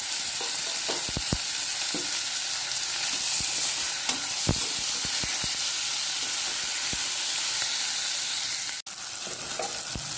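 Ground ginger, garlic and green chili paste sautéing in a pan, giving a constant loud sizzle and hiss with scattered clicks from stirring, heard alone at close range.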